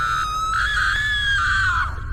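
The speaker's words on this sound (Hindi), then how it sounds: "तभी सामने से चीखने चिल्लाने की आवाज एक बार फिर से आने लगती है।" One long, high-pitched cartoon scream held for about two seconds, loud and close, tailing off at the end.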